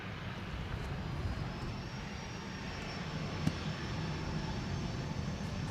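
A Transavia jet airliner at Amsterdam Schiphol turns onto the runway and spools up for takeoff, its steady broadband engine roar holding loud and even throughout, with one brief sharp tick near the middle.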